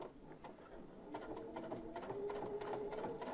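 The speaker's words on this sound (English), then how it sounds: "So by doing the top stitching, you're closing up that hole and giving it a nice finish all at the same time." Embroidery sewing machine top stitching an in-the-hoop dog softie, a steady close mechanical whir with rapid needle ticks, getting slightly louder as the stitching runs on alone.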